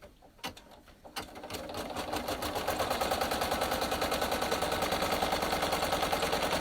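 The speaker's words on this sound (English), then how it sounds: "And I'm going to stitch that tack down to secure it in place." A sewing machine stitches a tack-down on plain chalkboard vinyl for a mini coloring page, starting with a few separate clacks, then a loud, rapid, steady mechanical chatter running on alone.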